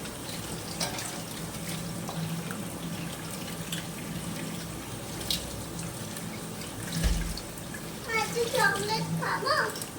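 Tap water runs steadily into a basket of washed fish and meat at a sink late at night, a continuous close splashing hiss, with a child and an adult talking over it toward the end.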